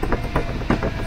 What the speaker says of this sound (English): Let's retract the gear.